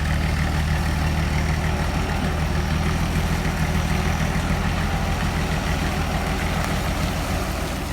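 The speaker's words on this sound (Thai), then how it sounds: "ตอนนี้กำลังเอาแมคโครลงจากรถเทเลอร์ครับ" A heavy diesel excavator engine rumbles loudly and steadily at close range as the machine drives off a trailer, idling with a constant low throb throughout.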